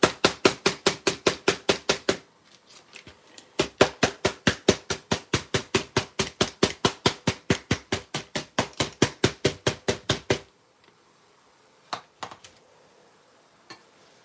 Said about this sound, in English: I like to hit the bottom to kind of let it settle into all the little nooks and crannies